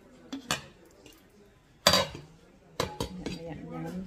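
A metal lid placed on a pot of beef bulalo makes several sharp clanks and clinks, one louder strike near the middle, with faint kitchen noise between.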